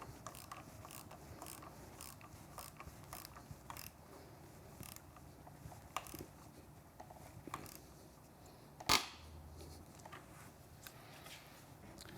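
A 17mm socket ratchet tightens the bar clamp bolts on a Triumph Street Twin motorcycle, giving quiet, rapid, repeated clicks in short bursts, with one sharper clack near the end.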